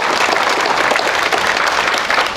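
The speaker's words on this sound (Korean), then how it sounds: "박수로 청해주시기 바랍니다" Steady, loud audience applause fills the hall at a memorial ceremony for President Syngman Rhee, a dense continuous wash of many hands clapping.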